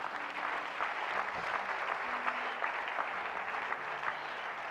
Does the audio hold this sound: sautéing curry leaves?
no